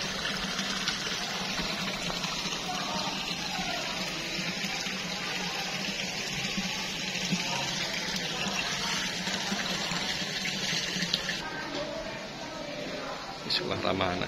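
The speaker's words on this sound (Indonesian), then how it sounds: "Airnya terus mengalir gemericik ini ya." Water runs steadily and gurgles in a fish pond garden at a school, a continuous close trickle, with a voice talking over it.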